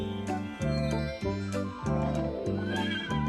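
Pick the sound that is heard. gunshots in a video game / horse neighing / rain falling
horse neighing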